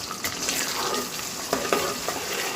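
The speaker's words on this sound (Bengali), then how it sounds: "রসুনগুলো ব্রাউন কালার করব সেই সাথে শুকনা মরিচও ভাজা ভাজা হয়ে যাবে" Garlic cloves and dried red chillies fry in hot oil for a beef curry, giving a steady, close sizzle with scattered clicks and scrapes from stirring throughout.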